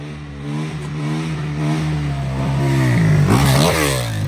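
A hot 480 Beta dirt bike engine revs steadily at close range, its low throbbing note climbing into a louder, harsher rev burst near the end, with no talking.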